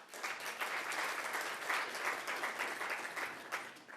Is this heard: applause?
yes